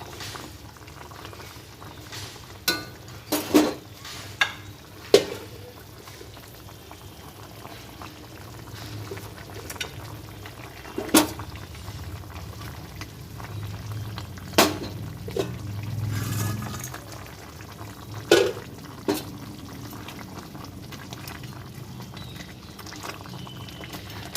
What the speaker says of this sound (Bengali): জল ফুটে গেছে এর মধ্যে আমি এবার মাছগুলো দিয়ে দেবো